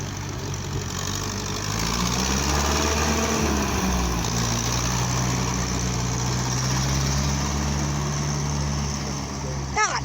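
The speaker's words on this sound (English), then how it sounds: "Listen at this Massey Ferguson tractor." A Massey Ferguson tractor at a classic car meet runs with a steady, loud engine drone that shifts slightly in pitch, while people talk nearby.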